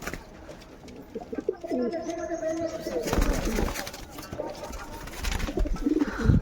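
Pigeons and doves coo in soft repeated low calls close by, with rustling and a person talking over part of it.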